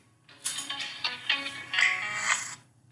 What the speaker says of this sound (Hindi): फोन आ गया, इसीलिए।